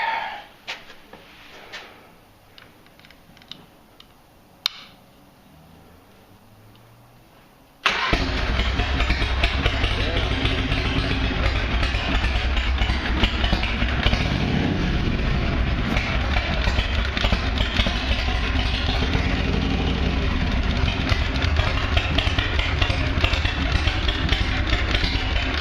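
A Harley Shovelhead Evo chopper with an S&S engine cranks briefly, then fires up and settles into a loud, steady, rumbling idle that continues to the end, with no talk over it.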